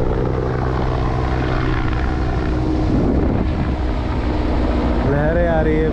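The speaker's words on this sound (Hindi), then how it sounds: "और हेलीकॉप्टर भी उड़ रहा है इस समय" Helicopter rotor and engine roar overhead at Madh Island, Mumbai, loud and steady, with a voice speaking over it toward the end.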